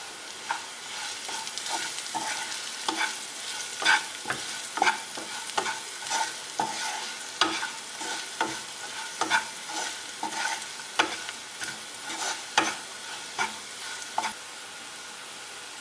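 Broccoli stir fry in a pan, Kerala style, being stirred and fried after salt and ground pepper go in: steady close sizzling with frequent scraping, clattering stirring strokes throughout.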